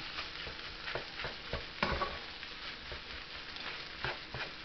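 Shrimp fried rice being stirred and tossed in a hot pan, with a steady sizzle under repeated scraping strokes of a utensil, moderately close and no talking.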